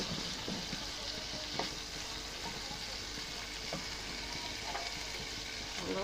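Boiled minced meat with chopped potato and carrot fries in a pan, a steady close sizzle with occasional scraping stir sounds throughout.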